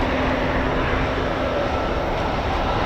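An electric aircraft with eight propellers, four vertical and four forward-facing, flies over an airshow at RAF Fairford, giving a continuous loud broadband whooshing drone that holds steady throughout.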